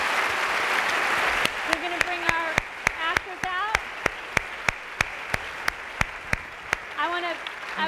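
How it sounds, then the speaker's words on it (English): Audience applause at a talk on healthy media connections greets actors being brought out. Broad crowd clapping settles into steady, evenly spaced individual claps under a voice. "Thank you, Catherine. Big round of applause."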